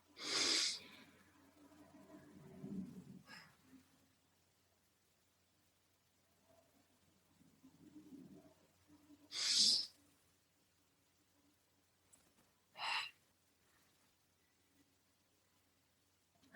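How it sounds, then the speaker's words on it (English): One person doing deep, continuous conscious breathing: long, soft, low breaths broken by a few sharper, hissing exhales. It sounds close but quiet overall, with faint gaps between breaths. "Or if you're really needing a reset, like you're just really tight, you can do it deeper."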